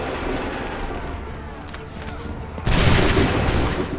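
Soldiers fire a musket volley in Assassin's Creed 3: after a tense stretch of distant crackling and faint shots, a loud massed burst of gunfire erupts and sustains, close and booming, with shouted voices in the mix.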